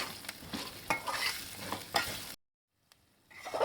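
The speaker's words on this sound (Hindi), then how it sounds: "किशमिश डाल देंगे और अच्छे से मिक्स कर लेंगे और इसको भून लेंगे" Cashews, raisins and chironji roast in a pan as a spoon stirs and scrapes them in quick rustling strokes over a low sizzle, then a brief silence before the stirring resumes.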